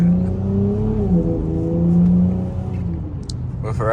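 Chrysler 300 engine in track mode while driving, a close, loud low-pitched drone that rises and dips with throttle, rumbling under the cabin before fading near the end with a few brief clicks.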